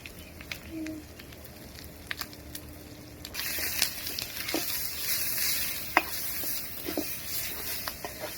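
Dried fish (chepa shutki) fries in a pan with turmeric and chili, a soft sizzle that swells partway through, with occasional spoon clicks and scrapes, quiet and close, no talking.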